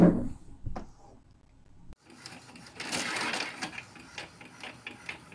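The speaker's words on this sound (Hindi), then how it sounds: "ये देखिए दोस्तों मेरा प्रिंटर यहाँ से प्रिंट करना शुरू कर दिया है पेज प्रिंट होकर निकल रहा है" A home printer printing pages, giving a busy mechanical whirr and rapid clicking with irregular rhythm, fairly close, after a brief quieter start with a few clicks.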